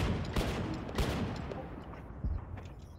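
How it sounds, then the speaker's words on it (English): Gunfire in the military video game ArmA 3 with artillery in play, heard as several loud sharp shots and short bursts spread unevenly over a few seconds, somewhat distant, with no talk over them. "someone's shooting at the town"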